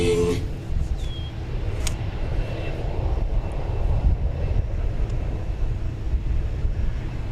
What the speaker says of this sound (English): It's American Eagle 3424 from Springfield in Embraer 175.